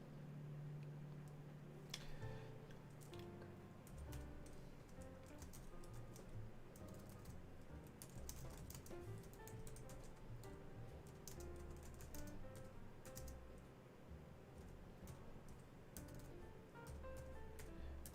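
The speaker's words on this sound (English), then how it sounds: "Just typing it." Rapid, irregular typing clatters on a computer keyboard, close and faint, with dense keystroke bursts continuing throughout and no talking.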